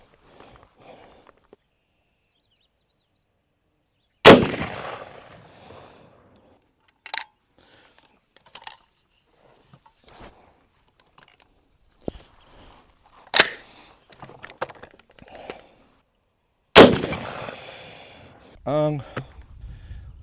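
Single shots from a .243 Winchester rifle on a Bear Creek Arsenal upper, three loud, sharp reports spread far apart with quiet gaps, scattered handling noises and someone talking between shots.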